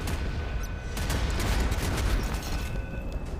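Dense, continuous rumble of bombs and missiles exploding in a video game, loud and overlapping with no gaps, like a heavy barrage going off nearby.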